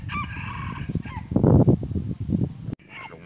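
A wild jungle rooster on a mountainside crows loudly and nearby, its long cock-a-doodle-doo rising and falling over about three seconds, then cut off abruptly.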